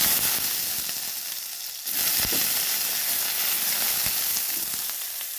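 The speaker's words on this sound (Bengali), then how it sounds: "নিম পাতাগুলো খুব ভালোভাবে ভেজে নিতে হবে" Neem leaves and brinjal fry in hot oil in a pan, giving a steady close sizzle and hiss with a few stirring clinks and no talking.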